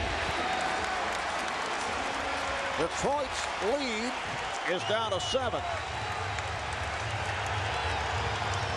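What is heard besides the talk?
basketball arena crowd cheering and applauding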